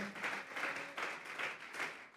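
A church congregation claps hands together in a steady, rhythmic pulse of a few beats per second, faint and somewhat distant, during a worship service.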